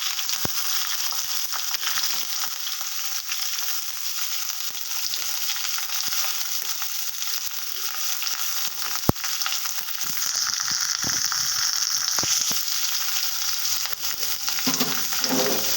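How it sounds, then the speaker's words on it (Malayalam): Sliced onions sautéing in hot oil in a pan give a loud, steady close-up sizzle with occasional sharp stirring clicks and scrapes, and no one speaks. "സവാള നമുക്കൊന്ന് ഇളക്കി വഴറ്റി കൊടുക്കാം."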